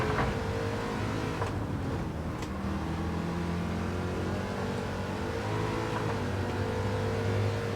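Race car engine in Gran Turismo 7, a steady loud droning whine with shifting pitch as the car drives on, continuous throughout with no voices.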